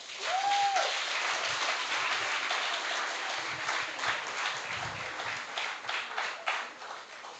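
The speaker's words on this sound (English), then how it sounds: "they deserve another applause" Graduation ceremony audience applauding the class of 2025: steady, moderately faint clapping from a crowd, continuous throughout, with a brief rising tone near the start.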